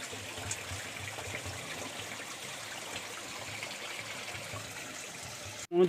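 Water runs steadily out of a village tank lined with black tarpaulin, a continuous close trickling flow with no talk over it.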